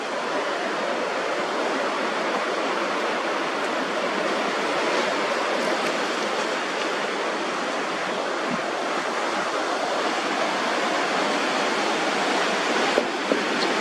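Steady broadband rush of flowing water or a waterfall, loud and continuous throughout with no pauses or voices.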